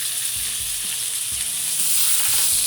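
Pork tenderloin sears in a hot pan, giving a loud, steady sizzle and frying hiss throughout, with no talking.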